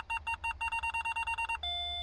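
A car's rear parking sensor beeps rapidly in a steady, evenly spaced run while reversing, then switches to a continuous tone, clear and fairly quiet.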